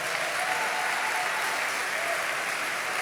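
A church congregation breaks into steady, dense applause that fills the space evenly and continues throughout, close and sustained with no voices standing out.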